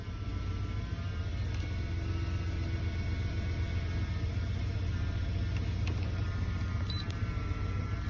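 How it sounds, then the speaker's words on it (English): A 1993 Ford F-150 truck engine idles, a steady low rumbling drone that stays constant and fairly close for the whole stretch, with no voices. "Now the truck's idle down."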